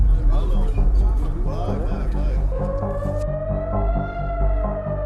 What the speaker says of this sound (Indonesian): Sirene peringatan rudal menggema di malam hari